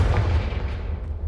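A Confringo fire-blast spell in Hogwarts Legacy, a single heavy booming burst with a deep rumbling low end that fades over about a second, loud and close with no voices.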